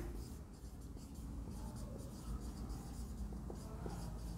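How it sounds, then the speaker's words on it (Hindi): During an engineering lecture, chalk or a marker scratches and taps across a board in short uneven strokes, faint and close under a steady background hum, with no talking. "यहाँ लिख देता हूँ"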